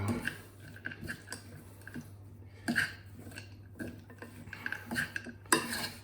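A metal spoon folds chocolate raisins through peanut butter cookie dough in a bowl, giving close, irregular scrapes and clinks against the sides in short bursts with quiet gaps between them.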